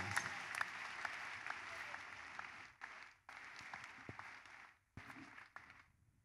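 Sustained applause from a church congregation, steady and dense, with a few brief dips where the clapping thins before surging back.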